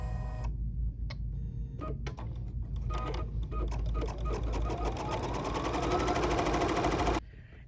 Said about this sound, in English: So the machine has made our tack down stitch